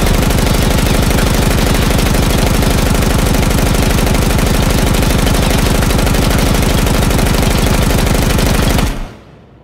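A PKM machine gun fires one long sustained automatic burst in the shooter game Ground Branch, loud and rapid and evenly paced, cutting off abruptly near the end, with no talking.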